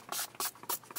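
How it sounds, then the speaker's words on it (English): A Skindinavia bridal makeup finishing spray misted over a face in several quick, hissing bursts, each short and close, with brief gaps between them and no talking. "So must have the Skindinavia finishing spray. This is the bridal one."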